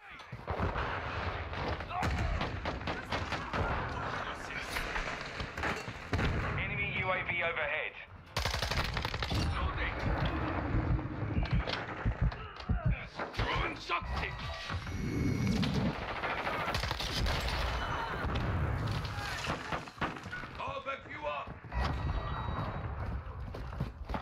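Hurricane submachine gun in Modern Warfare II blazing away in dense, rapid automatic bursts, loud and near, with game effects layered over it almost nonstop and a short gap partway through.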